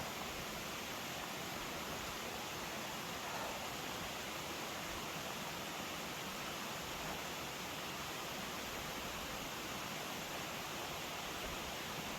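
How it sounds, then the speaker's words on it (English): Waterfall beside a mountain hiking trail, a steady broadband roar of falling water that runs unbroken throughout, fairly distant and even, with no talk over it. "And waterfall is still right alongside us here."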